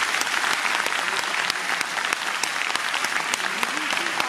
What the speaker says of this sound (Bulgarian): Аплодисменти, уважаеми дами и господа!